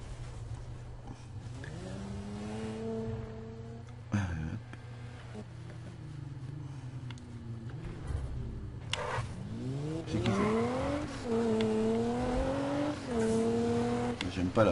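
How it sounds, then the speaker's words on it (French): A Nissan Skyline GTR in the Need for Speed video game revs and accelerates through rising and falling engine pitches, with gear changes and a steady background drone, while someone speaks French over it. "On va aller rôder un petit peu cette petite Nissan Skyline GTR."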